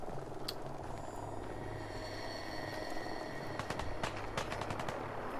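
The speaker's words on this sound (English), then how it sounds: "I hear gunfire." Gunfire in the video game Fallout 4, likely from Gunners or Brotherhood, heard as scattered sharp cracks and bursts over a constant droning background hum, no talking.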